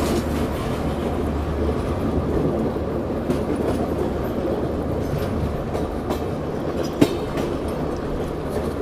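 A Bangalore Rajdhani Express train rolls on the rails, heard from inside a coach as a continuous rumbling clatter with rhythmic wheel clicks and one sharp knock near the end.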